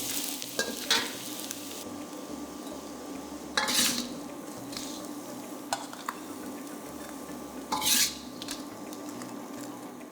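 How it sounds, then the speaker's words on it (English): Fried tofu tossed and stirred in a hot pan, with crisp sizzling, utensil scrapes and a few louder clattering tosses, close and steady with no talk. "Toss to coat."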